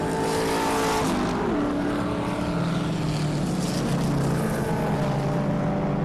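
Race cars in a 2022 regional racing festival roar steadily down a back straight, loud layered engine notes with shifting pitch as several cars pass close by, no talk.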